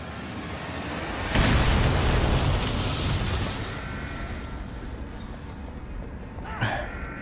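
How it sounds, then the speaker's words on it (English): A bomb detonates in the stealth video game Dishonored, a loud sudden blast followed by a long rumbling decay, with a smaller thud and crack near the end. "let's plant the bomb"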